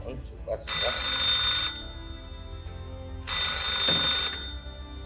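A telephone rings in two long bursts with a pause between, the bright trilling tone loud and close over a low murmur of background voices.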